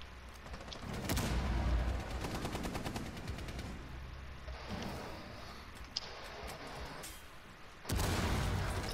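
Gunfire in a video game: rapid automatic bursts and heavy shots ring out in loud clusters, with a sharp single crack in between and a booming burst at the end.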